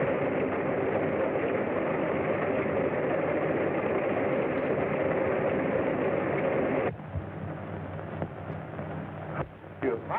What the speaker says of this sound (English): The engine's stopping.